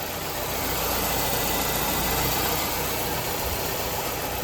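A 1995 Ford Contour engine idling steadily after a high-idle fault was fixed, an even, continuous mid-pitched hum with no revving, close and alone.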